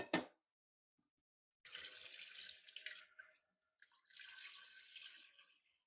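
Tap water running into a pot for Latvian soup in a home kitchen, two separate close pours of a few seconds each after a short knock, quiet room between.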